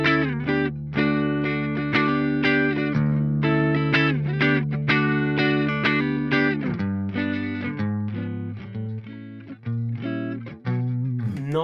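Shimmery clean electric guitar through an Engl amp with chorus and modulation effects plays ringing sustained chords and arpeggiated notes, steady and fairly loud, with no talking.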